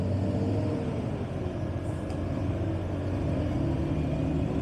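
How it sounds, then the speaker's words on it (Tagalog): Heavy traffic on Quirino Highway makes a steady, dense low rumble of engines and tyres throughout, with a faint higher whine drifting through and no voices. "Sobrang traffic pala dito."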